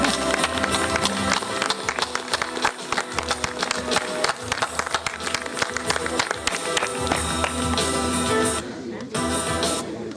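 An audience at an outdoor Fête de la Musique in Semur-en-Vallon claps steadily and loudly for several seconds, crowd noise and voices mixed in, before the clapping thins out near the end.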